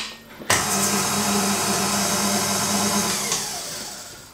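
A food mixer whirs as it blends flour and oats, starting abruptly and running as a steady loud motor hum for about three seconds before easing off.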